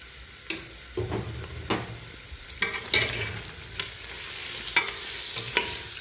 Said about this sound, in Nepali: जिरा धनियाँको पाउडर पनि मजाले भुट्ने मासुसँगै